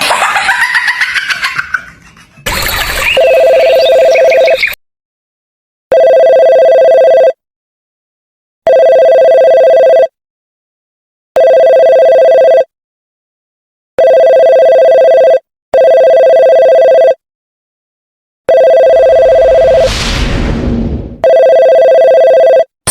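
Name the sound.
telephone ringing in Sakura School Simulator video game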